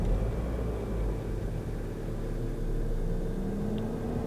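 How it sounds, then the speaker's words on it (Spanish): A Nissan Qashqai engine running after being started, a low steady idle rumble heard from inside the car, even and continuous with no talk. "Vamos a encender el coche."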